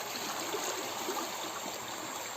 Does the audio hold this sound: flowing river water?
yes